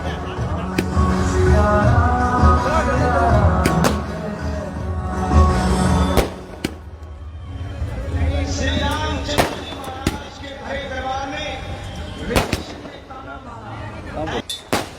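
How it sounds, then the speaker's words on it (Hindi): Fireworks at a municipal display burst in the sky one after another, with repeated sharp cracks standing out over a loud crowd and someone speaking throughout. "ये देखिए एक के बाद एक भव्य आतिशबाजी आसमान में जाती हुई।"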